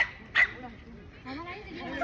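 A small, puppy-like dog gives a brief yip, then whimpers faintly beneath people talking nearby.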